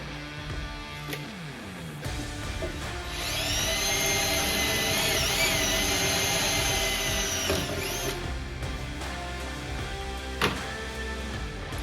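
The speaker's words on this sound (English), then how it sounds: "we'll get the drill out and we will drill the hole" A power drill bores a hole through sheet metal for a custom hot rod panel, its whine rising and holding steady for several seconds and then stopping, with a few sharp knocks before and after.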